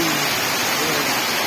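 Heavy rain pours down in a dense, steady hiss with no breaks, loud and close throughout.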